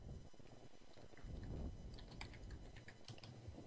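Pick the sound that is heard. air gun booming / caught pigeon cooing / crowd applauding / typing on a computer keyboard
typing on a computer keyboard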